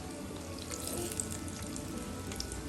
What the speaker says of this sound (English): transfer your egg roll into the hot fire, into the hot oil, and allow it to fry until it is golden brown